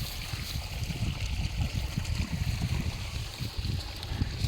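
On a farm, water pours into a large tank with a continuous, close, churning gush and deep rumble that never lets up.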